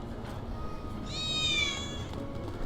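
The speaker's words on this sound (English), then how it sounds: "That was definitely a cat." A cat meows once in the video game Final Fantasy VII Remake, a short rising-and-falling mew heard over quiet ambient game background.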